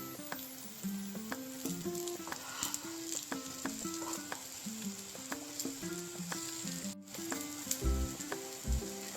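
Brinjal slices frying on a tawa and being flipped, a steady hiss of oil under a run of quick spatula clinks and scrapes against the metal, close and fairly busy, with no speech.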